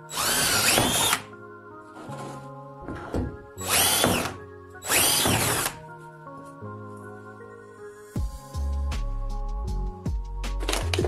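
Power drill boring into a surface, several loud whining bursts that start and stop, followed by clicking, rattling tool mechanisms and a steady motor drone.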